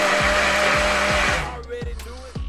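Electric blender whirring loudly while mixing orange and lemon juice, a steady dense motor roar with rhythmic pulsing, then cutting out around the midpoint, leaving quieter rattles and clinks.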